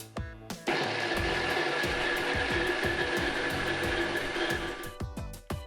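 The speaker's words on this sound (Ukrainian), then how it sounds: "Тоді перекладаємо у блендер і перебиваємо." A blender blending raw liver pieces into batter whirs loudly and steadily for several seconds after a short start, with faint clinks before and after.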